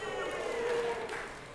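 Audience clapping at a hall of fame induction, a brief faint patter of applause that fades toward the end.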